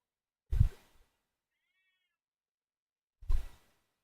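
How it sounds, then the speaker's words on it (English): A house cat meows twice, each call short and fairly close, with a long silent gap of about three seconds between them and no talking. "My cat's still meowing at me."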